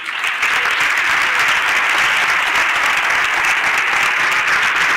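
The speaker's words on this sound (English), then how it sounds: "Please receive from a warm applause from San Francisco" Warm, steady applause from a large conference audience at an innovation stage event in San Francisco, dense and loud throughout, with no talk over it.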